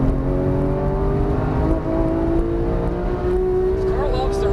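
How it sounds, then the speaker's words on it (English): A Porsche 991 GT3 on a race track, its engine held at high revs with a sustained, rising tonal wail and harmonics, loud and close from inside the car, with brief gear-change dips. "This car loves to rev."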